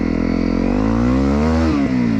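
A Honda motorcycle accelerates with a loud, close engine drone, its pitch climbing steadily before a brief dip as it shifts gear, then rising again.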